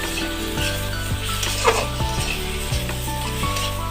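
Spiced taro fries in a pan with a steady, close sizzle, broken by occasional scrapes and clinks of a spoon against the metal as it is stirred.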